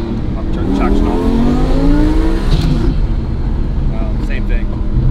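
A tuned Lamborghini Murcielago of about 1,000 horsepower, traction control off, revs hard and accelerates, a loud close engine roar climbing in pitch under steady talk.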